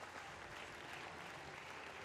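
A crowd at a track meet claps for a high jumper, a steady wash of applause heard from a distance throughout.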